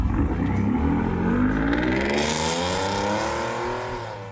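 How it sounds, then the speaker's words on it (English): Car fitted with a Borla ATAK exhaust revs loudly and close, a deep roar sweeping upward in pitch and then slowly fading. "Borla ATAK exhaust, the road's loudest battle cry."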